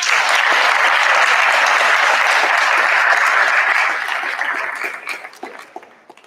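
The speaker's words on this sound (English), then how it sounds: "please join me once more in applause for all of our National Junior Honor Society" A school audience claps for newly inducted National Junior Honor Society members, a dense, loud wash of applause that holds steady and then thins out and fades over the last couple of seconds.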